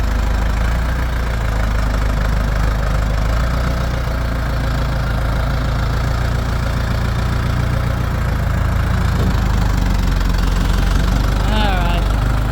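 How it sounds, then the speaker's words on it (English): A small tractor engine chugs loudly and steadily at close range, a rough knocking idle that runs throughout, with faint voices beneath it. "Watch out for the little tractor."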